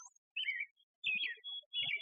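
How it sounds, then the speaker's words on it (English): Birds sing outdoors at an early-morning sunrise church service, with short bright chirps and warbled phrases coming in three clear bursts against otherwise quiet surroundings, moderately close and without talk. "the birds are singing"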